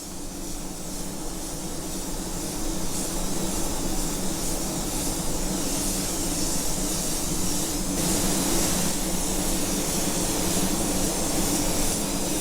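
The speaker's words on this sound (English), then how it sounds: "third coat going on. You can see the coverage already. Keep it light, keep the gun well back for better atomization." A paint spray gun lays down a light third coat in a custom paint job, a loud, continuous airy hiss that holds steady throughout without pause or talking.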